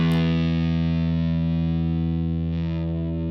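Electric guitar strummed through a green distortion or overdrive pedal, a single chord ringing out loud and sustained with dense buzzing harmonics, slowly decaying over a few seconds with no talk.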